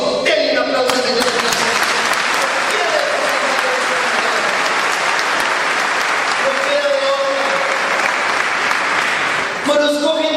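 A church congregation applauds steadily and loudly for about ten seconds, dense clapping filling the room while a preacher's voice carries over it.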